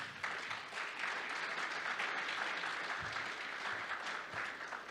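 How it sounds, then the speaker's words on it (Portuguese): Audience at a Brazilian real-estate market conference session breaks into steady, sustained applause, a dense wash of clapping that holds at an even loudness for the whole stretch with no voice over it. "elso Petrucci, economista-chefe do Secov SP, a quem eu peço uma salva de palmas."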